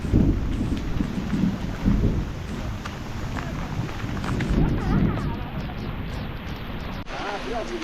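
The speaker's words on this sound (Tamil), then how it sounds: "இங்கே பாருங்க பேய் மழை பெஞ்சிக்கிட்டு இருக்கு." Heavy torrential rain roars steadily in dense forest on the trail to Sathuragiri, with low rumbling thunder underneath, loud and close throughout.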